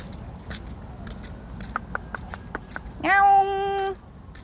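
Light clicking and tapping noises, then a single clear, drawn-out meow close by from a cat in a park on a rainy day.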